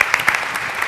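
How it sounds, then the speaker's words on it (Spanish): Brief burst of audience applause on a Spanish-language show, a few quick claps in a short, lively patter. "Fuerte el aplauso"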